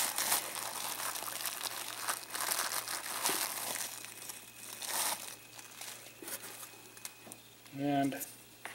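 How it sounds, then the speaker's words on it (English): Bubble wrap and plastic Ziploc bags holding scale model kit parts crinkle and crunch close by in irregular bursts. The rustling is soft and runs under quiet handling sounds. "Nicely wrapped in bubble wrap to protect all the parts."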